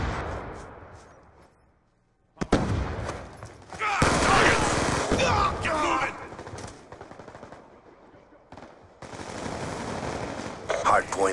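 Automatic gunfire from Black Ops 2 on the Nuketown map in Hardpoint mode, with sustained bursts and rapid volleys over dense in-game combat noise. A short near-silent gap sits early on, and game voice callouts come and go between bursts.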